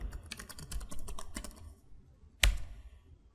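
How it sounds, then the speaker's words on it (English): An email address is typed on a computer keyboard as a quick run of close, crisp key clicks. It ends in a pause and then one louder keystroke. "type any email"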